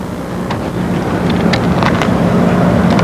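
A four-stroke engine on a P-51 model plane runs steadily at a high drone, with wind buffeting the microphone throughout and no talk.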